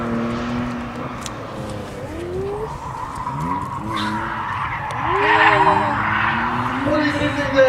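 A BMW 330 CI drifts at a 2008 drifting day event, its tires squealing in long wavering wails over a steady engine roar, while a commentator talks over the noise.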